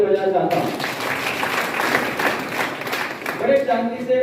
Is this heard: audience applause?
yes